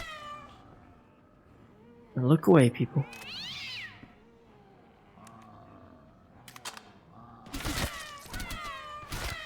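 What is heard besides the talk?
cat meowing in VRChat zombies game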